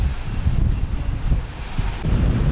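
Strong wind on a beach in Bodrum, Turkey buffets the microphone with a steady low roar, rising and dipping slightly, with no voices.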